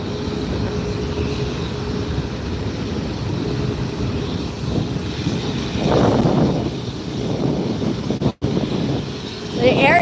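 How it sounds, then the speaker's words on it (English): An Asiana Airlines A380 airliner taxiing into takeoff position at LAX airport, producing a broad, steady engine rumble and roar through wind noise that swells partway through. "Asiana Airlines getting into position for takeoff here."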